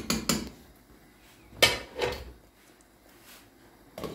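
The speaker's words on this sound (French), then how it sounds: "Et là, je mets le couvercle." A metal lid set onto a cooking pot of simmering chicken escalopes in cream: a few sharp clinks and clatters, two quick ones at the start and another pair midway, close and fairly loud against a quiet kitchen.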